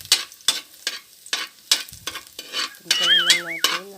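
Onion sautés in hot cooking oil for shrimp, with a steady sizzle under a series of rhythmic scraping stirs from a utensil. A brief wavering tone is heard near the end.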